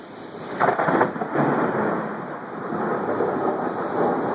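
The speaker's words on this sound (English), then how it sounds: "I got a wicked lightning strike" A deep rumble of thunder from a lightning strike in a severe storm rolls in, then fades into steady rain pattering on a surface.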